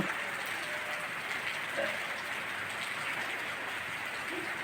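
Soft, steady patter of rain falling in the Himalayan hill town of Munsiyari, Uttarakhand, a constant diffuse hiss with faint scattered drops throughout.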